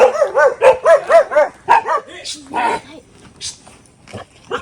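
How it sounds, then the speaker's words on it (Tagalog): A dog barks in a quick run of about eight sharp barks near the start, followed by people talking nearby. "Dito naman si Aso."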